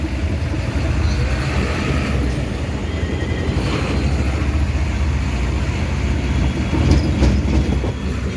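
A diesel train rolls past in Tiruppur, a steady loud rumble of wheels and engine with rhythmic rail clatter throughout, nearby and continuous.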